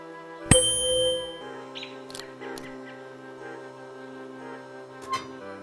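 In the adventure game Willy Morgan and the Curse of Bone Town, a bright bell strikes once with a sharp clang and a long ringing decay, followed by a few soft clicks and a second faint chime, with no talk.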